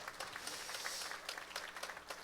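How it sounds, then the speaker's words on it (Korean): An audience at an outdoor political talk concert in a Gwangju park applauds, many hands clapping in a steady, moderately distant patter that continues throughout. "여러분 모두의 격려, 큰 박수로 그 힘을 좀 주시기 바랍니다"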